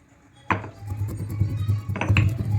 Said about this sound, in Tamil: ஜீரகம் சேர்த்துக்கோங்க இது நல்லா நசுக்கிக்கோங்க